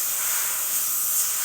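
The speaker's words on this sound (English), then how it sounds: "I'm spraying on the paper shield more than I am on the canvas" An airbrush sprays paint across a paper shield and onto a canvas, producing a continuous, even, close hiss with no pauses.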